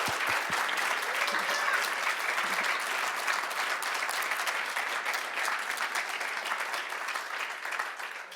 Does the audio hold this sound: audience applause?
yes